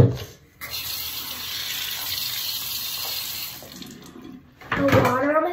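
Running water streams steadily from a tap, then a louder burst of splashing as water is scooped and splashed onto the face during a skincare routine.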